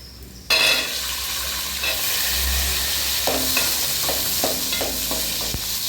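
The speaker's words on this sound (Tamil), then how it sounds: "வெங்காயமும் பூண்டும் பொன்னிறமாக வதக்கி வரணும்" Garlic and onion sautéing in a pan for a fish curry, a steady, loud sizzle that starts abruptly and runs throughout, with a series of light spatula scrapes and taps toward the end; close and with no talk.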